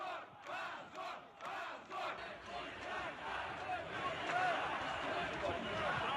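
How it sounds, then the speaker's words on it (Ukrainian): A large, angry crowd at a street protest shouts and chants outdoors, a loud, dense roar of many voices with rhythmic surges at first, as police detain an opposition figure. "Обурений натовп намагався завадити поліції забрати опозиціонера."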